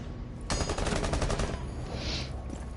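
Rapid automatic gunfire in a video game, a loud dense burst of repeated shots lasting about a second, followed by lingering noisy game sound.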